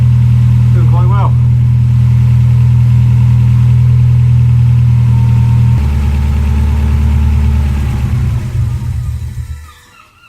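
A supercharged Mazda MX5 engine idles loud and close with a steady, deep drone. Its note shifts partway through, then it sputters and dies out at the end as fuel pressure runs out. A brief voice is heard near the start.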